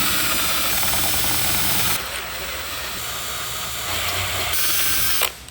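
Power drill boring with a 15/64 drill bit while extracting a broken bit during a jet boat restoration; a loud, steady whine runs throughout, easing slightly midway, then cuts off near the end.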